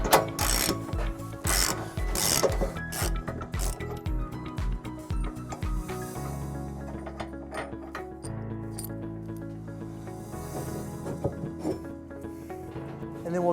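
A ratchet with a 15/16 socket spins out the hitch receiver bolt from the cross tube of a 2017 Tesla Model S, quick close clicking bursts followed by slower turning and metallic clinks.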